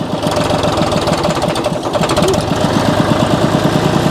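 An old 830 tractor pulls a hay rake of sixty-plus years in too high a gear, its engine thumping in a loud, steady, rapid rhythm close by, with clattering implement noise underneath.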